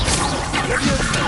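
A Leviosa spell cast in Hogwarts Legacy gives a brief, dense magical whoosh with a soft swishing rush.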